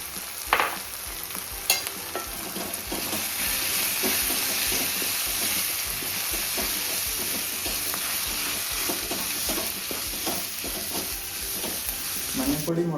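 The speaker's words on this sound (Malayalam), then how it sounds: "മഞ്ഞൾപ്പൊടി മുളക് പൊടി ആഡ് ചെയ്തതിന് ശേഷം അതിൻ്റെ പച്ചമണം മാറുന്ന വരെ ഒന്ന് വഴറ്റി കൊടുക്കുക" Turmeric and Kashmiri chili powder sauté in a pan for paneer butter masala, with a steady close sizzle and repeated spoon scrapes and stirs running through the whole stretch, no voices.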